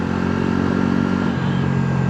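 A Bajaj Pulsar NS400Z motorcycle with a 350cc engine is held at high revs up to about 6,500 RPM, a loud, steady, close engine drone with a slight dip and recovery partway through and no talking.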